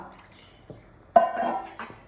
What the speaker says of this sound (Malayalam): ഈ വെള്ളം വേണമെങ്കിൽ കുറച്ചും കൂടി ഒഴിച്ച് കൊടുക്കാം